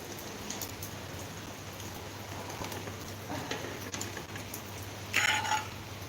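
Steady rain falls outdoors, a continuous broadband hiss with soft patter. A brief brighter burst of sound near the end sits above the rain.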